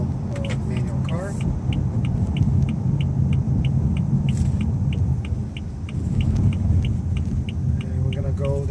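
A 2014 BMW 320i with a manual transmission rolls in second gear with a steady low engine and road rumble heard from inside the cabin. A faint regular ticking runs through it.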